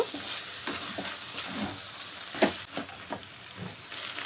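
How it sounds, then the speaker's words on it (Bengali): Fried prawns being stirred into a frying banana flower and potato curry, with a soft continuous sizzle under repeated scrapes and knocks of a spoon against the pan, with no voices. "চিংড়ি মাছটিকে দিয়ে আবারও একটু নেড়ে ছেড়ে নেব"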